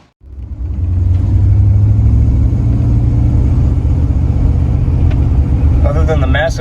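A 1958 Buick Roadmaster's engine with a new carburetor fires up abruptly and settles into a loud, steady low idle rumble close by, with a voice briefly heard near the end.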